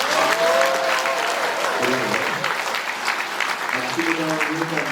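Audience at a party meeting and members' training session clapping steadily in sustained applause, with a voice speaking over it.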